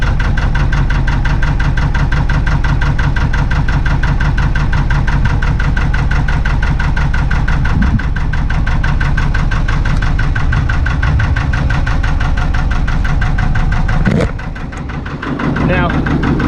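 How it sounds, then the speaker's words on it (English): A narrowboat's SR2 engine idles close by with a steady, low, chugging knock that runs evenly throughout. Near the end it breaks off briefly with a short clunk and a small dip in level. "These SR2 engines rev very, very low"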